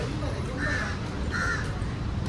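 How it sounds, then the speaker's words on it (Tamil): A crow caws twice in a city street in Kuala Lumpur, two short harsh calls about a second apart, heard over loud, steady traffic and street noise. "ஆ காக்கா குரலை கேட்க"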